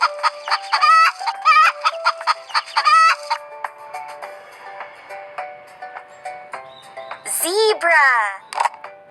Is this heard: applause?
no